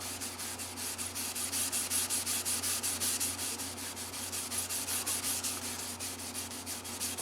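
A red Scotch-Brite pad rubs steadily across the finish of a Martin 00-15 acoustic guitar, making a continuous rhythmic scrubbing hiss with quick back-and-forth strokes, close and alone throughout.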